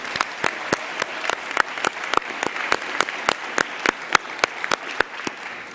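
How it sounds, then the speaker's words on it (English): An audience at the Jobs & Skills Summit gives a panel on stage a round of applause: dense, steady clapping from many hands with sharp individual claps standing out, sustained throughout and free of talk. "Could we please just give everybody one more round of a big applause?"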